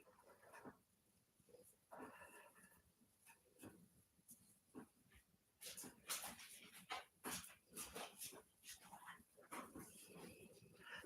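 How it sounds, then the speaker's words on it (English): Restless dogs whimpering and whining indoors, several short high cries and snuffles scattered across the stretch, some louder bursts near the end, with no talk over them. "The dogs seem to be getting a little antsy."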